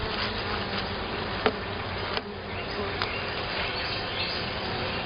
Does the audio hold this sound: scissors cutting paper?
no